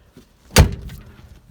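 A Ford F250 XLT Lariat pickup's door shuts with one sharp, solid thud up close, followed by a short fading rattle and then quiet.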